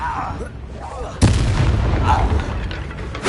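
Confringo fire spell explosion in a Harry Potter video game: a single sharp booming blast partway through, followed by a rumbling roar and crackle that lingers to the end.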